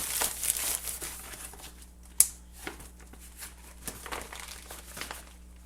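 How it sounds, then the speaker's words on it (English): A gallon-size plastic Ziploc bag holding yeast from the freezer crinkles nearby in a kitchen. Quiet, intermittent rustles and crackles come with one sharp snap partway through. "I keep my yeast in a gallon size Ziploc bag."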